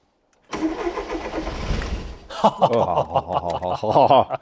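A Ford Fiesta Supersport barn find, unrun for 20 years, cranks with a whirring starter for a couple of seconds, then catches and revs up loudly, running rough and uneven.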